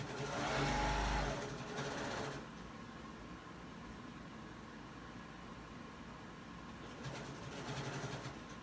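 A sewing machine stitches a quarter-inch seam on knit fabric with a V neckline. Short bursts of whirring come at the start and again near the end, with quiet in between, close but soft.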